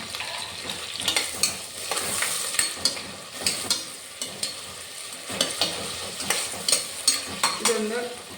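Chopped tomato stirred into onions frying in a pan for Kerala egg biryani, with a continuous sizzle and a run of rhythmic, close spatula scrapes and knocks against the pan.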